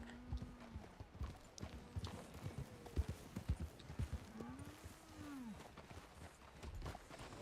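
Horse hooves clip-clop at a steady walking pace in a Western role-play video game, with a few close, distinct hoof strikes and a brief snort or whinny partway through.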